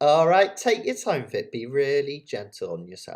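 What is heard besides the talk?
No everyday noise stands out behind the speech.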